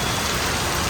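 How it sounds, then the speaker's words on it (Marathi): Heavy rain pouring down in a dense, unbroken roar of hiss, loud and close, with no pauses. "आणि आता एवढा डेंजर पाऊस आलाय की असं वाटतंय हा का आलाय एवढा पाऊस"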